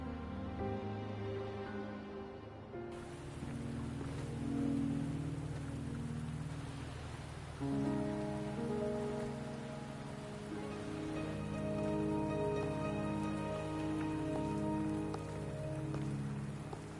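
Steady rain patters throughout, mixed with soft sustained musical tones, a continuous even wash of sound with no speech, in the video game Wuthering Waves.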